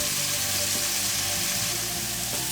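Shrimp sizzle in pesto sauce in a pan, giving a loud, steady hiss of frying that carries on unbroken and close throughout.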